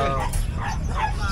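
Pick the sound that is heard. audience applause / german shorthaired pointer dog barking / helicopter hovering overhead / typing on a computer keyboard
german shorthaired pointer dog barking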